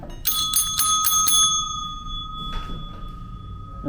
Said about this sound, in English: Ring that bell if you get hungry.